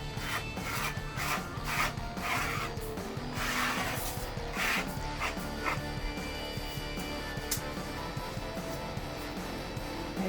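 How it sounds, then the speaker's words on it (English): Rough rhythmic scraping strokes on a desk surface as dried residue is worked off, steady and close, with no voices. "I might be able to just do a little scraping action at first"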